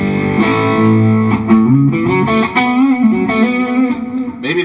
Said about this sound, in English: This is the Fender Deluxe Reverb.